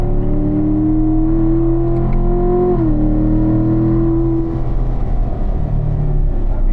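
A racing car engine in a video game drones loudly, its pitch holding and then dipping as it shifts, before climbing steadily again; no voices.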